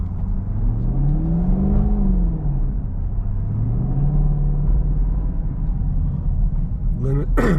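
Chevrolet Camaro with an LT1 engine driving on snow in snow and ice mode, a low, steady engine rumble that rises and falls gently under throttle-limited acceleration, up close with a voice talking over it.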